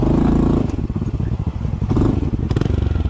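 A Honda CT125 motorcycle with an aftermarket pipe, its throttle blipped on a muddy single-track trail in the rainy season: a loud, close engine note surging up and down in quick bursts, with clattering and thumps.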